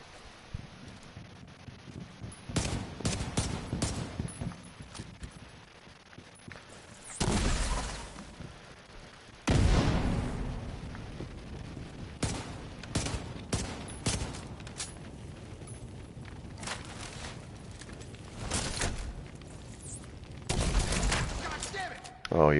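Rifle gunfire in The Division 2 video game, with many rapid bursts and heavy shots crackling through a long stretch amid rushing background noise.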